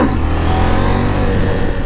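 A KTM 790 Adventure motorcycle engine revs loudly and close, a steady strong roar with no talk over it.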